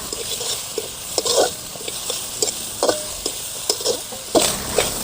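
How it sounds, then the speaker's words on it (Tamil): Grated coconut roasting in ghee in a pan for wheat rava payasam, a loud close sizzle broken by repeated scraping strokes of a spoon stirring it, in an uneven rhythm with no talking. "கட்டு நல்ல நெய்யிலேயே வறுத்து எடுத்துக்கலாம்"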